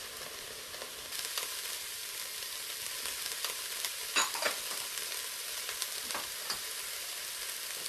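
Diced celery and red peppers sauté in an Instant Pot with a constant bright sizzle, punctuated by occasional stirring scrapes and spatters, close and fairly loud.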